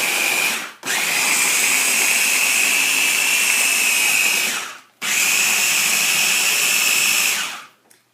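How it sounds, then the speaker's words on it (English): Countertop blender pulsing a grated soap and washing soda mixture: two long, loud, steady whirring bursts separated by brief stops, ending with a short third pulse. "you pulse this to get the ingredients all incorporated and blend it well"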